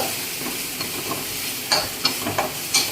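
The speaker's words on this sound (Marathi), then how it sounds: "छान परतून घ्यायची आपल्याला व्यवस्थित म्हणजे तिचा वास सुटेपर्यंत" Ingredients sautéed in a pan on a home stove for aloo paratha, giving a steady sizzle with a few sharp scrapes and clinks of a spoon stirring, close and fairly loud, no voices.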